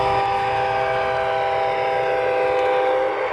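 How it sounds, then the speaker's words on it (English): Model train whistle at an indoor model railway exhibit, a steady multi-tone whistle blowing continuously and loudly for the whole short clip with faint background rumble. "heard the train whistle blowing"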